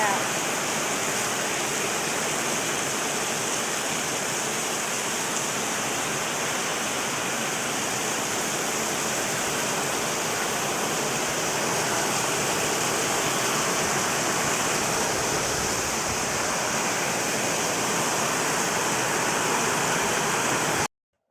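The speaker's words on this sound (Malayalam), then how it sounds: "അടിപൊളി മഴ" Heavy rain roars steadily for a long stretch, a thick unbroken wash of falling water close by, ending abruptly.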